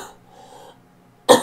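A single sharp cough near the end, loud and close, after a moment of near silence.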